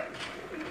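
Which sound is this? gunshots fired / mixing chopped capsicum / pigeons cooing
pigeons cooing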